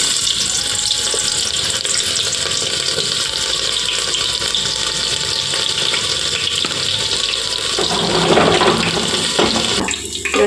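Chopped onions dropped into hot oil in a pressure cooker, giving a loud continuous sizzle close by that swells briefly near the end, with no talking.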